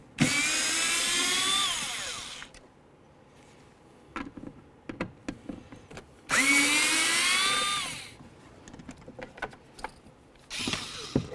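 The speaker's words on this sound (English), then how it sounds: "We're going to take out these 3 bolts that hold the window motor in using a T25." A power driver with a T25 bit backs out the three bolts holding the window motor in a 2007-14 Ford Edge door: two long, loud whirring bursts with rising pitch, separated by clicks and handling clatter, then a third burst starting.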